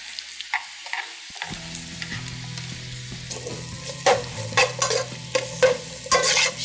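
Capsicum and cabbage sautéing in a pan, a soft steady sizzle broken by repeated sharp scrapes and clatters of a spatula turning the vegetables, louder toward the end, with no talking.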